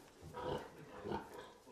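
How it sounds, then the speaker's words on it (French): Pigs on a farm eat slowly, giving two soft, low grunting snuffles that swell and fade, faint and fairly close. "Les porcs prennent leur temps pour manger, 1 à 2 heures en moyenne."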